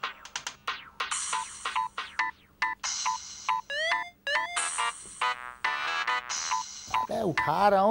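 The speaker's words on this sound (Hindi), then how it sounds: "जब तक फोन नहीं उठाओ बजता ही रहता है।" A mobile phone ringtone plays loudly and close, a rapid repeating electronic melody of bright chirping notes that keeps ringing without pause.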